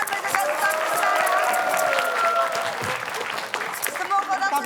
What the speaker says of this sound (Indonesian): Oke, kita akan tepuk tangan